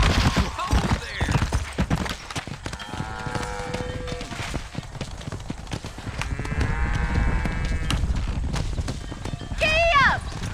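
Horse galloping in the video game Red Dead Redemption, steady rapid hoofbeats under game voices, with snorts and a brief whinny near the end.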